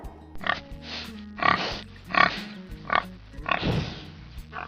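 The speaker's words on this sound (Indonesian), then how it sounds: "Hewan itu adalah babi." A pig grunts and oinks repeatedly in short snorting bursts, close and fairly loud, with brief pauses between calls.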